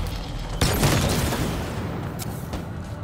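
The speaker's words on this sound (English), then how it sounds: "I've been shooting for a while" Sustained gunfire from a Halo Infinite campaign battle against Sentinels, a dense rattling burst rising sharply after a brief lull, then a rolling wash of shots and booms that gradually thins, with a couple of sharp cracks near the end.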